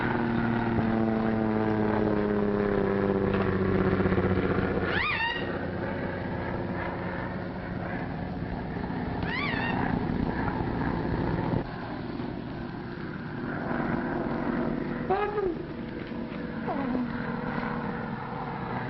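A propeller airplane engine drones steadily as the aircraft descends toward an island, a low continuous roar with a few rising whines from nearby voices over it.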